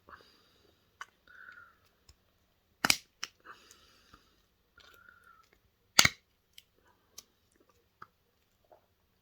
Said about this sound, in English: just cut a little snips here and there, so we can try and break off that piece